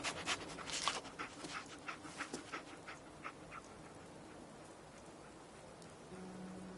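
A dog companion in Fallout 4 sniffing and panting close by, with quick rhythmic bursts of breath that fade over several seconds, set against a steady rain-like background hiss.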